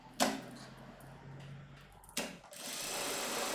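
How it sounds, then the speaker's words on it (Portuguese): Sewing machine stitching a fabric piece for a frasqueira, a short whirring run after a click, then a longer steady stitching burst, fairly quiet and close. "Vou costurar ela."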